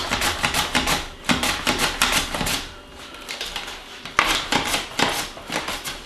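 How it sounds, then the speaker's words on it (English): A knife slices cucumbers on a cutting board for refrigerator pickles, a fast run of crisp, loud chops in quick bursts with brief pauses between them, close up and with no talking. "Now we're gonna do cucumbers, same way. Just cut them into slices."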